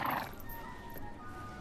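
A nervous new horse gives a short whinny at the start, which then thins into a faint, steady tone with light hoof-like clatter beneath. There is no talk.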